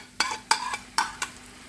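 Kabab mixture with yogurt being fried in a pan, a soft sizzle broken by four quick scraping strokes of a spoon stirring, close and short.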